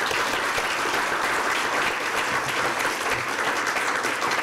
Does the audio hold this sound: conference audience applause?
yes